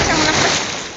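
A strong ocean wave crashes and splashes on Ambay Beach, a loud, brief burst of broadband wash that fades slightly toward the end.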